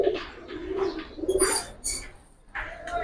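Giribaj pigeons cooing in a loft, several soft throaty coos in short bursts, close and clear, with a few brief higher chirps in between.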